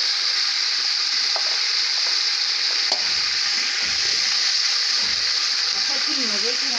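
Tomatoes go into a hot pan of mutton pilaf cooking over a high flame in a village kitchen, setting off a loud, steady sizzle and frying hiss that runs throughout with a few faint stirring clicks.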